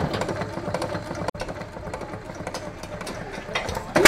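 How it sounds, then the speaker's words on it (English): Old flywheel engine running at an outdoor antique sale, a steady rapid chuffing and knocking rhythm heard close up, with people talking over it. "This is an old flywheel engine."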